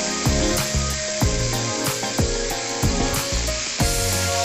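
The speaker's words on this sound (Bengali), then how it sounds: "আমি তেল গরম করতে দিয়েছি, তেলের মধ্যে একটুখানি হলুদ দিয়েছি। এর মধ্যে আমি মাছগুলো দিয়ে দিলাম।" Small mourala fish sizzle steadily in hot oil seasoned with a little turmeric, a continuous crackling fry with occasional sharp knocks and scrapes from a utensil in the pan.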